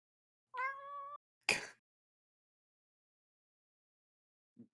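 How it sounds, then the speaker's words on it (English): A cat gives one clear, close meow with a rising-falling tone, then a short bright chirp, silence and a faint soft sound at the end. "Hi, kitty."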